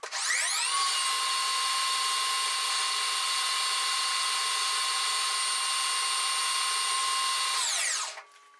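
A metal lathe spinning at 1200 RPM takes a light 5 thou finishing cut with a hand-sharpened brazed carbide tool, a loud steady high whine that holds for about seven seconds and then spins down, with no talking.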